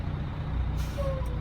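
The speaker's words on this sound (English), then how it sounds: "Put my trailer brakes on." Trailer air brakes on a truck are set during a CDL pre-trip inspection in Texas, giving a short, sharp burst of air hiss over the steady low rumble of the idling engine.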